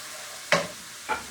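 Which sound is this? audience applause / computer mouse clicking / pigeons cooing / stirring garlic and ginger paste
stirring garlic and ginger paste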